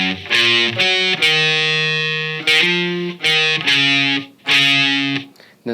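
Distorted electric guitar playing a riff, bright crunchy chugging notes in short repeated phrases with brief gaps between, loud and close with no talking.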